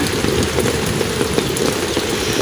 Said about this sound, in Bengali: আজকে যে পরিমাণে বৃষ্টি পড়ছে